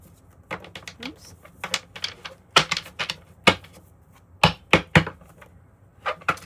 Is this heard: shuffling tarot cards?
yes